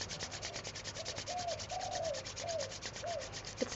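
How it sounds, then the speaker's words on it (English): Palms rubbed together briskly to build heat, a close, rhythmic swishing friction repeating steadily for several seconds, soft and alone without talk. "Rub your hands, increase the heat."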